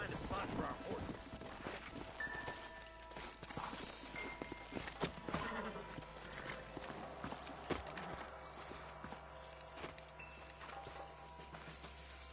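Steady clip-clop of horse hooves at a walking pace in the video game Red Dead Redemption, mixed with ambient outdoor noise and faint background voices throughout.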